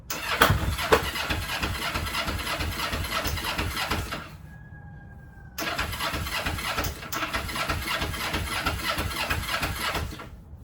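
An abandoned Kawasaki motorcycle under rebuild cranks and runs roughly, a loud rattling engine note that cuts out briefly near the middle, leaving a faint whine, then catches again and keeps running unevenly.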